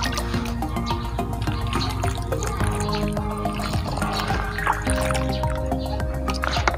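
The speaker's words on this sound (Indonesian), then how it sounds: "Selanjutnya, setelah ini kita siram ke air." Water is poured over a freshly planted bonsai stem cutting, giving a steady trickling and dripping with small splashes that continue throughout.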